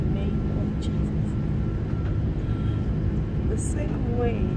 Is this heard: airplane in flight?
yes